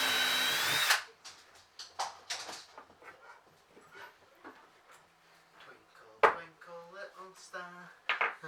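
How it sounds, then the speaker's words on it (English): A power drill boring holes through the back panel of a homemade PC desk, starting with a loud sustained whine that cuts off, followed by scattered clatter, handling knocks and brief murmured talk. "drill some holes in the back of the points for all the wires"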